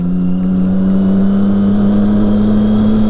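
Triumph Street Triple 675R motorcycle engine holding a steady, loud, close roar at near-constant revs, a continuous drone with no pauses.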